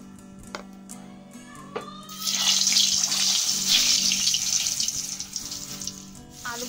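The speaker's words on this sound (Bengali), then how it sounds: "এখন বৌদি আলুগুলোকে একটু তেলে ভেজে নিচ্ছে" Boiled potatoes dropped into hot oil for chicken biryani, a loud sizzle bursting in after a few light clinks and hissing steadily before easing slightly.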